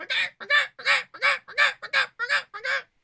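A human voice imitates the jump sound of a chicken in a video game, giving eight quick squawking honks in a steady run, loud and close with no other sound around them.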